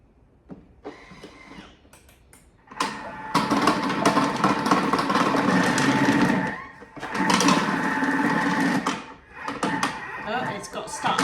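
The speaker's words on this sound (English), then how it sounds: "I'm going to grate some cheese using the cutter" A Thermomix fitted with its cutter attachment grinds cheese in loud, rough whirring bursts with a buzzing motor tone, pausing briefly between runs, close up.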